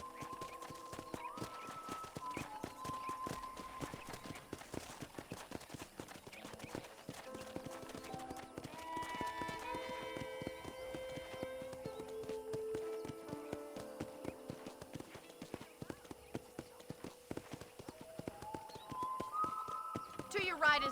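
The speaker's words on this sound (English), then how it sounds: "let's see if you can still ride a horse" Rhythmic hoofbeats of a horse clip-clopping steadily in Red Dead Redemption under a continuous musical score, with tones shifting throughout.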